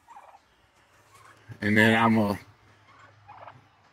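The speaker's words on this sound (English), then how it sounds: "Hopefully I end up with a good little flock of turkeys." A single loud, close turkey gobble rattles out in the middle, with quieter farm sounds and brief speech around it.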